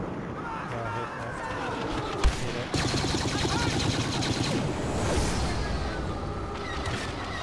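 A cycler rifle fires during a Walker Assault battle on Hoth in the Star Wars Battlefront beta, with sharp shots cutting through continuous dense gunfire and battle noise.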